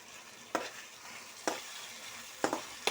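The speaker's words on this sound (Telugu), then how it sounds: "ఒక 5 or 10 minutes దాకా ఉల్లికాడలు ఇలాగే తిప్పుకుందాం" Spring onions fry in a pan with a soft steady sizzle, broken by four sharp spatula scrapes and stirs at uneven intervals, close and fairly quiet.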